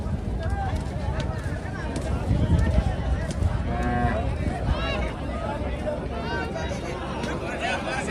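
Water buffaloes low and moo repeatedly amid a noisy buffalo market, with crowd babble and people talking around them.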